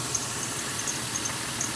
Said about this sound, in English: So, all right, the engine is almost warm.